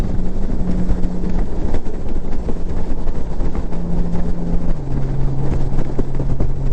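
A Honda Gold Wing DCT motorcycle engine drones steadily under heavy wind rush while riding, with the engine tone stepping to a different pitch partway through as it downshifts; loud and continuous, with no talking.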